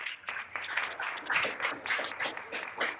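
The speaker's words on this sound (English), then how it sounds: "Round of applause for Miguel." A business hangout audience gives a round of applause, brisk scattered clapping from a modest crowd, fairly close and continuous for a few seconds with little talk.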